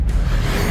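Expelliarmus spell cast in Hogwarts Legacy, a short, steady airy whoosh with a low rumble underneath, heard alone and sustained for under a second.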